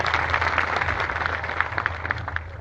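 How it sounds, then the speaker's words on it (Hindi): An audience at a live devotional music gathering claps together in steady, continuous applause, moderately loud and close, lasting the whole stretch. "ताली बजाओ इस बार"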